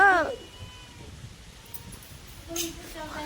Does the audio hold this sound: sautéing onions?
no